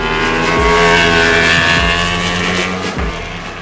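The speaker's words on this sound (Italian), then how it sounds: "è bellissimo poter sentire uno scarico del genere suonare quando tiri le marce" A Ducati Streetfighter V4 S with an Akrapovic exhaust roars loudly, revving up and down in quick surges with a deep, crackling rasp close by.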